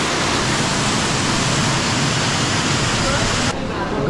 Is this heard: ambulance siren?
no